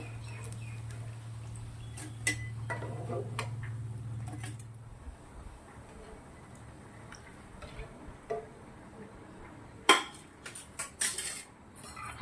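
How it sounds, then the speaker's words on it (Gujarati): Capsicum bhajiya fritters being lifted out into a metal strainer, with soft clinks and scrapes of metal utensils and a few sharper knocks near the end, over a low steady hum. "આપણે આવી રીતે બધા જ ભજીયા નીકાળ દેવાના છે ચારણાના અંદર"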